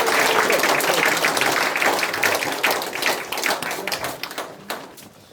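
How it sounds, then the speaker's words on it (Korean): Applause from about two hundred party members at a political committee launch event, a dense wash of clapping that starts loud and gradually thins out and fades toward the end. "우리 스스로를 위해서 큰 박수 한번 올리면 어떨까요?"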